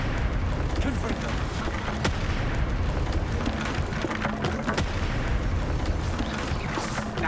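A Confringo spell explosion in Hogwarts Legacy on PS4, a sustained loud rumbling blast with crackling debris and sharp impacts running throughout.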